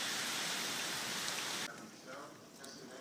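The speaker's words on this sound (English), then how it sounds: "Rain, rain, rain, rain going in sheets" Heavy hurricane rain pours down in wind-driven sheets in a backyard during Hurricane Isaac, a loud, steady wash of noise that stays dense and then thins slightly partway through.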